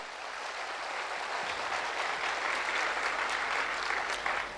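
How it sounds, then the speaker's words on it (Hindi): A hall audience breaks into steady, even applause, a continuous wash of many hands clapping at moderate loudness throughout. "एक बार उनके लिए भी जोरदार तालियां बजाइए सर।"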